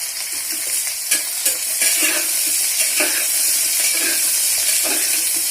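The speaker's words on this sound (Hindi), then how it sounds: "इसे हमें कम से कम 7 मिनट तक फ्राई करना है।" Vegetables for an aloo baingan mooli sabzi fry in a pan, radish among them, with a bright continuous sizzle close up and repeated spatula strokes stirring through them.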